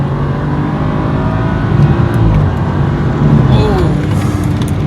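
A BMW 435i with an N55 engine, catless downpipe and stage 2 tune drones loudly and steadily from inside the cabin with the windows up, swelling briefly as it pulls, under a low voice.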